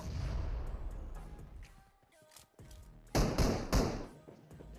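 A grenade blast in a shooter game played with an AKM, a sharp loud burst of noise near the middle followed by shorter thuds and taps, over quieter game ambience.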